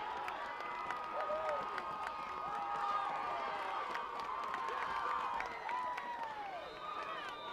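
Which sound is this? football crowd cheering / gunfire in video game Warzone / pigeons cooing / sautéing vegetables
football crowd cheering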